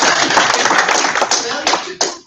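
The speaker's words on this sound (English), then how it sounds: "Everybody give Shelley a round of applause." Dense, steady applause from a live training session audience fills the whole stretch, then thins and fades out near the end.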